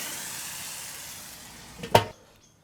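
Monkfish sizzling on a hot griddle, a steady soft hiss of frying that swells into a brief sharp burst as the fillet is flipped with a fish slice, then quickly dies away.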